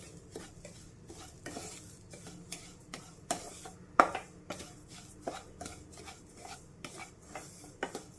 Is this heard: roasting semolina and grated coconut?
yes